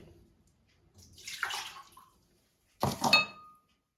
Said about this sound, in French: Alors on va commencer par mettre l'eau.